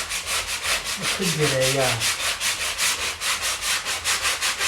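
A small Ryobi power sander works a rotted wooden window sill on a bathroom picture window, giving a steady, pulsing rasp throughout, while someone speaks briefly in the middle.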